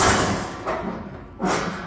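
Metal dumpster door being pulled open and catching on something, giving loud close scraping bangs and thuds in two bursts a second apart.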